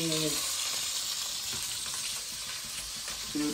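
Garlic sizzling and frying in a pan while red kidney beans are cooked, a steady dense hiss throughout with faint stirring scrapes and no talk.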